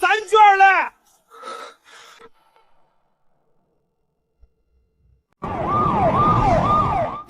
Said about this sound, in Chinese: 江大夫，山下来了好多车，红蓝灯，红蓝灯，警车，至少有10几辆